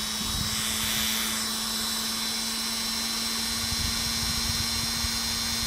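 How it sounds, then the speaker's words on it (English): A Dremel rotary tool running at low speed on a Hot Wheels axle tube, a steady close whine with a constant hum beneath and no pauses. "I don't really have the Dremel cranked up very, very fast at all."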